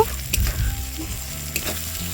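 Paneer and masala sizzle in a pan as boiled potatoes and peas are added, giving a loud close frying hiss with a few sharp stirring clatters over about two seconds.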